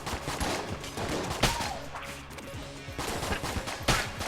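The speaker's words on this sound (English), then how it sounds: "The crossbow does some really good damage." Crossbow bolts and other weapon fire crackle through a busy Enter the Gungeon fight, with a few sharp shots standing out over steady game effects and music, loud and close.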